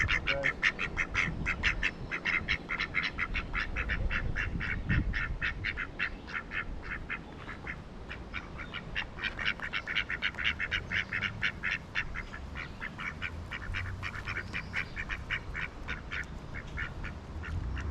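A flock of ducks quacks continuously nearby, overlapping rapid calls forming a busy chattering chorus throughout, with a brief spoken greeting mixed in early on.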